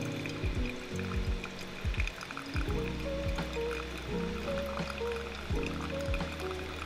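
Water poured over ground coffee beans during a brewing test, a steady trickle and pour with low resonant filling tones, close and fairly quiet.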